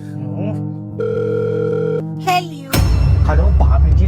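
A phone's ringing tone sounds in long steady electronic tones, then cuts off into noisy clatter and background commotion.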